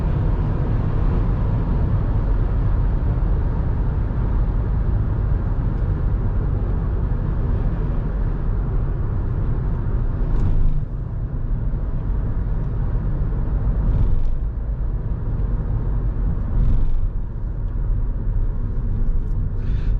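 Inside a Fiat Doblo with a 1.6 Multijet diesel engine, a steady low rumble holds at around 2200 rpm while driving, continuous and close, with a few brief swells along the way.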